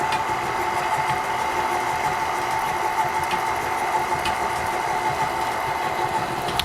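An electric mixer on low beats Guinness cake batter in a home kitchen, giving a steady close motor hum with a constant whirring drone throughout and no talk.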